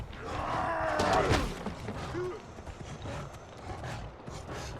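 Riding a mount in the game Far Cry Primal, with hoofbeats clopping in a quick run, a rough animal snort or whinny early on, and a brief groan, all fairly close over a busy game backdrop.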